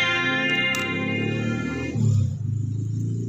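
Clean electric guitar through a humbucker pickup with chorus effect added; sustained chords ring steadily and alone, then a lower chord strikes and rings near the end.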